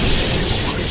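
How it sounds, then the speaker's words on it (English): A fireball spell explodes in Neverwinter Nights 2 against fire and ice mephits, giving a short, broad burst of rushing blast noise that fills the whole moment fairly loudly. "let's throw another fireball that way"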